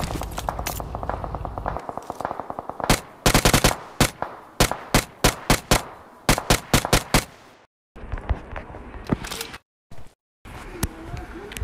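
Gunfire in BGMI opens with a rapid automatic stream, then breaks into a regular run of single loud shots. Later bursts come with brief silent gaps, close and punchy, with some background chatter.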